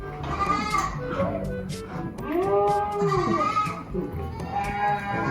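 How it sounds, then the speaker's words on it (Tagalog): A large herd of goats on a Philippine farm, let loose together below, calls out in a run of overlapping bleats, some close and loud, others further off, with people talking nearby. "Yan, mga kambing. Ang dami"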